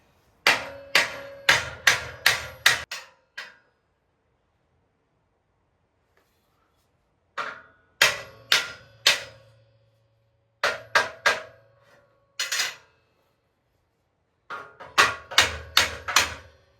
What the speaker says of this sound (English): I just use the hammer and tap it around to get it right where it needs to be